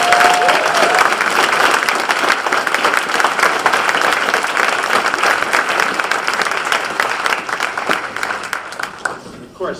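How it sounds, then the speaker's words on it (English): Audience applause fills a town hall ceremony honoring a service member, steady dense clapping at close range that holds for nearly ten seconds before thinning out at the end. "So let's give them a round of applause."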